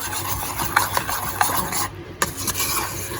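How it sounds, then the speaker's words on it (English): A spoon or fork scrapes and rasps against a bowl while coconut milk powder mixture is stirred to remove lumps, a close, steady rubbing with a few sharper scraping strokes and a brief pause near the middle. "we're ensuring we're mixing the coconut milk powder so we don't have any lumps"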